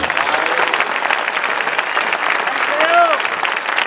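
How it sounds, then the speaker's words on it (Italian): An outdoor event crowd in Salzano claps loudly for the audio and lighting crew, sustained applause with a brief whistle or cheer near the end. "al service audio luci un grande applauso"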